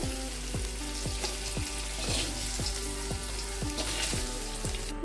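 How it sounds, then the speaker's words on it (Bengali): Paneer fries in a pan with oil, a steady crackling sizzle overlaid by evenly spaced knocks of a spatula stirring, close and clear, with nobody speaking. "পনিরটাও আর বেশিক্ষণ ভাজবো না নামিয়ে নেব"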